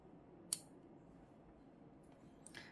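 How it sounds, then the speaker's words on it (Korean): Scissors snip through crochet yarn with one crisp cut, followed by two fainter snips near the end. Each cut is close and quiet against a low background hush, with no voices. "가위로 잘라내 주겠습니다"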